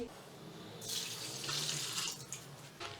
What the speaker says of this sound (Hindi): और अब हम इसमें पानी शामिल करेंगे।